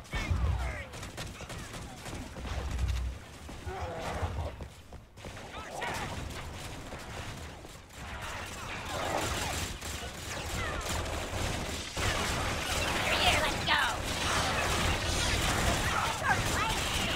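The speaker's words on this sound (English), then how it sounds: "I like that shotgun" Shotgun blasts in Star Wars Battlefront II (2005) with a Halo mod crack out amid a steady fusillade of other gunfire, moderately distant and mixed into busy battle noise, with occasional talking.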